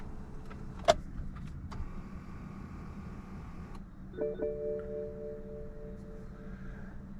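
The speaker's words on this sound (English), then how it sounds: "Turn the car off real quick." A car's electrical systems click and chime as the engine shuts down, a faint hum settling and a soft tone sounding near the end.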